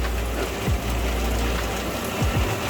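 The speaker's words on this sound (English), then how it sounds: "October cloudburst, absolutely mega rain." Heavy October cloudburst on the Croatian coast, rain pounding steadily and loudly on a boat's hard top, a dense continuous roar with a few low thumps and no voices.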